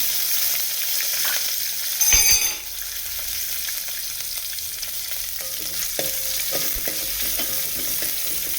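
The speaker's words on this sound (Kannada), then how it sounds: "ಈ ಥರ ಹಸಿ ಸ್ಮೆಲ್ ಹೋಗೋವರೆಗೂ ಸ್ವಲ್ಪ ಎಣ್ಣೆಯಲ್ಲಿ ಫ್ರೈ ಮಾಡಬೇಕು" Curry leaves, asafoetida and long-slit green chillies frying in oil give a steady, soft sizzle, broken by a brief clatter of stirring near the start and a few light scraping taps later on.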